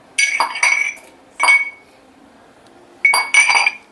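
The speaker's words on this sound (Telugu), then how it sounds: "తర్వాత కొద్దిగా అల్లం ముక్కని మనం ఇక్కడ దంచి ఈ కాగే నీళ్ళలో వేసుకుందాం" Small pieces of ginger pounded for masala tea, heard as a few ringing, clinking strikes in quick groups with brief pauses between them, close and clear, no speech.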